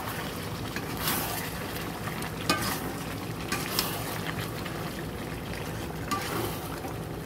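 Chicken cooks in a pan with spices in a home kitchen while rice boils nearby, a low steady sizzle broken by scattered spatula scrapes and soft clinks against the pan.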